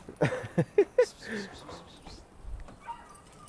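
Several quick dog barks or yips in a short burst, followed by a soft whimper and faint background noise.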